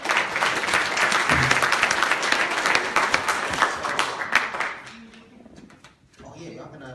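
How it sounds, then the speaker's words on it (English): Applause from an audience at a legislative agenda day event, loud and dense for the first several seconds, then thinning out to scattered claps as it dies away, with some talking underneath. "give yourself a round of applause for sticking on the press."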